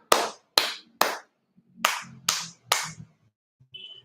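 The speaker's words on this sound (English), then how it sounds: "Can you all clap your hands now?" Children clap their hands in an online preschool class: six sharp, separate claps in an uneven rhythm, each ringing briefly, followed by a faint trailing sound.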